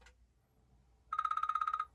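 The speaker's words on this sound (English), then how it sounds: "I'm sorry, I have a text message." A phone sounds a text message alert, a quick run of bright, evenly pulsed electronic chirps lasting under a second, fairly faint and close in a quiet room, with no talk.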